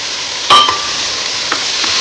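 Chopped tomato and onions sizzle hard in a hot pan, a loud, bright, continuous hiss with a sharp clink of a utensil at the start and a few faint scraping stirs after.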